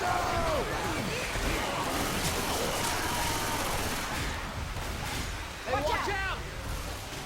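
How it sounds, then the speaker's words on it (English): Bursts of fireworks crackle and pop right outside a door amid a busy background, with a sharper flurry of bangs near the end. "Someone is shooting off fireworks right outside my door here."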